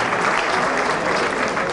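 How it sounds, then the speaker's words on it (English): A brief burst of audience applause at a university alumni event, a dense even wash of many hands clapping at once. "So that in itself deserves a round of applause"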